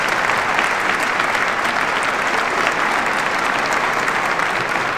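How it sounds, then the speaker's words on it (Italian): An audience claps steadily and energetically throughout, a dense even wash of applause with no break. "fate un applauso, facciamo un applauso"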